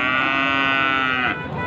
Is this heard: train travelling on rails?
no